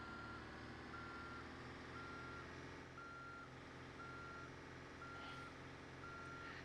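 Steady repeating reversing beeps from a bus backing up in BeamNG.drive on Jungle Rock Island, evenly spaced over a continuous engine drone, no talk.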